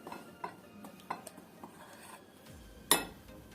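Chicken wings being tossed with chicken powder seasoning in a bowl, faint scattered clinks and soft scraping, then one sharper metallic clink near the end, with no talking.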